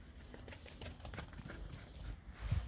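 Quick, scattered thudding footfalls of dogs running over a hard surface, clattering somewhat like hooves, fairly close, with a brief louder burst near the end.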